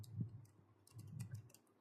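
A computer keyboard gives soft, quick, irregular clicks during SQL query work, faint and close, in several small bursts against a low background hum.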